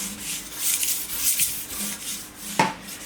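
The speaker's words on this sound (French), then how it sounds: "On va nettoyer la plancha" Metal scraping and rubbing across a plancha griddle being cleaned before grilling prawns, a steady mid-level scrubbing with one sharper clank near the end.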